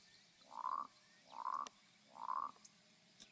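Three evenly spaced croaks from a frog in a Unity video game, each a short buzzy call against a quiet background.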